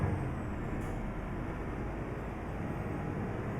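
Steady, loud low rumble of a brand-new Scania truck engine in Euro Truck Simulator 2 on a Brazilian map, droning continuously without any talk.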